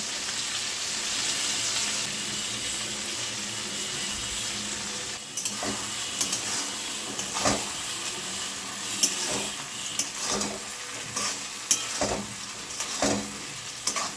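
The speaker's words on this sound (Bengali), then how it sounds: "বাটা মশলাটা এখন দেব। কাজু, পোস্ত, তিল, কাঁচা লঙ্কা, দুধ দিয়ে বেটে নিয়েছি।" Ground paste of cashew, poppy seed, sesame, green chili and milk goes into hot oil for a cauliflower posto dish. A steady hiss gives way to wet spluttering with several sharp pops and stirring scrapes. No one speaks.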